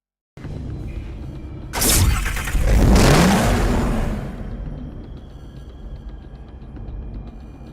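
A Chevrolet Camaro in the racing game Need for Speed Hot Pursuit Remastered fires up with a sudden loud burst, then revs hard and rises in pitch before settling into a steady, quieter idle rumble.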